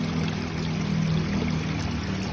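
Water drains from a koi pond filter chamber after the standpipe is pulled, a steady close rushing flow that holds evenly throughout with no one talking.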